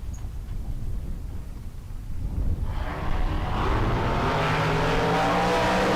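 A flamed Corvette and a 1969 Camaro launch at a bracket drag race, with low engine rumble building into a loud roaring rush of revving engines partway through that carries on to the end, heard from trackside.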